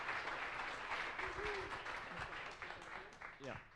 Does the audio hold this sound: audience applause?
yes